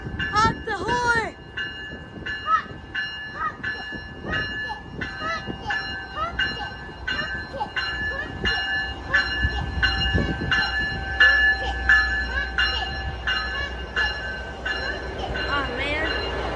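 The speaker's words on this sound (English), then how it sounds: "I think the train's departing." A train pulls out of Glenview station with a passenger locomotive trailing at the rear, its horn sounding in long repeated blasts over rumbling wheels while bystanders talk briefly at the start.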